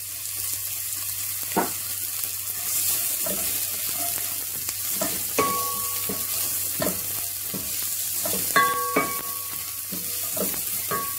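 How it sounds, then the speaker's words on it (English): Chopped onions sizzle steadily in hot oil in a pan for fish soup, a continuous frying hiss broken by clinks of a utensil and brief tap-water sounds in the kitchen. "Whilst it's in there, I throw my chopped onions as well."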